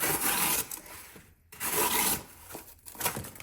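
Axial Alpine USA-made fixed blade knife with a thin hollow grind cutting material: close, loud rasping strokes in bursts, separated by short pauses, with no talking.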